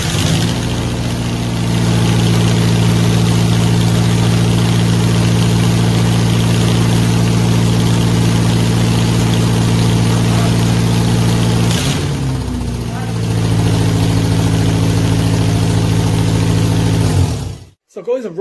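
A rebuilt Honda Civic EG6 SiR engine idles loudly and steadily close by, with a brief dip in the middle before settling back to a smooth idle, then cutting off abruptly at the end.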